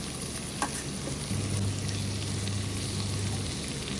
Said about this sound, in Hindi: अब कढ़ाई में हम एक एक करके सब्जी डालेंगे।